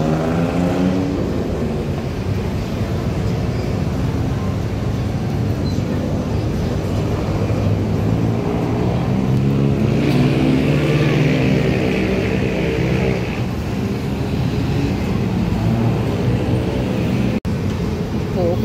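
Continuous road traffic roar beneath the BTS Skytrain line in Bangkok, a loud, steady wash of engine and rolling noise with a murmur of voices mixed in throughout.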